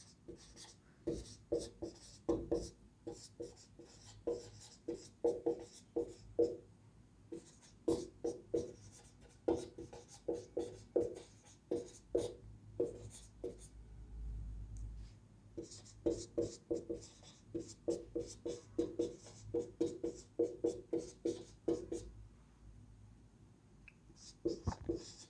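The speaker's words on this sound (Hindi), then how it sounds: "जैसे मैं एक लाइन में लिख देता हूँ, एक वही सेंटेंस में लिख देता हूँ" Writing on a board during a science lesson gives a long series of close tapping and scratching strokes in quick, irregular bursts, with short pauses between words.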